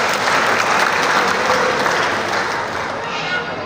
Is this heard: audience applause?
yes